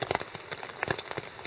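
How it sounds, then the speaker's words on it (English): Steady rain patters on a tent during an autumn overnight camp by a forest creek, dense irregular drops tapping close and moderately loud with no voices. "It started raining"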